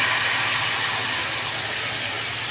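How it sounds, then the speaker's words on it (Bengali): Spice paste hits hot oil in a pan for a pointed gourd (potol) curry, giving a loud, continuous broadband hiss of sizzling that stays steady throughout. "মশলাটা ঢেলে দিলাম।"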